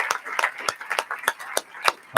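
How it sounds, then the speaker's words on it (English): Scattered hand claps from an audience at a Holy Blessing Ceremony, a quick run of sharp, separate claps at moderate volume with a faint murmur of voices underneath. "Let us give another warm round of applause to our beloved true mother"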